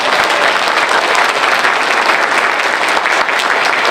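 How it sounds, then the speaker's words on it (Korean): Loud, sustained applause from a crowd at a book launch event for an education superintendent candidate in Daejeon, dense clapping holding steady for the whole stretch with no talk over it. "동고동락 함께 목표를 헤어나갈 이 부부를 큰 박수로 격려해 주시기 바랍니다"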